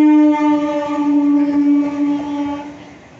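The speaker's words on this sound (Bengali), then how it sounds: "ট্রেনটা কোথায় গেল" A train sounds a loud, sustained horn close by, holding a steady tone for about three seconds before fading out.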